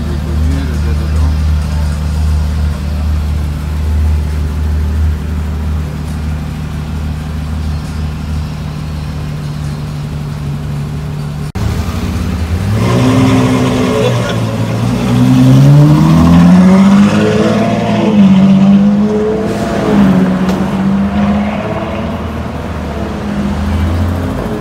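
Ferrari F12 Berlinetta V12 idles with a deep rumble, then revs and accelerates with rising and falling engine sweeps, loud and close, with people talking over it.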